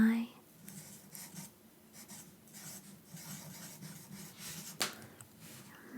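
A metallic pen scratches across journal paper in short, close strokes with soft rasping texture, a faint sharp tap near the end, quiet and intimate.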